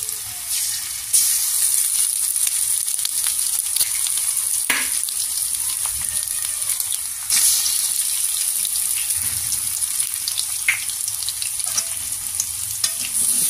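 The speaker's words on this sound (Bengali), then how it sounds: "আস্তে আস্তে ভেজে নেবেন" Two eggs fry in a pan for potato and egg noodles, giving a steady close sizzle with scattered clicks and scrapes of stirring and a few louder spatters, with no talking.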